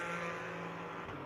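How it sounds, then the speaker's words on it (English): Elan V8 race car in a GT4 qualifying session at Sonoma Raceway, its engine a steady, moderately distant droning hum with a slight shift near the end, with no talk over it. "That big thundering Elan V8 underneath the hood"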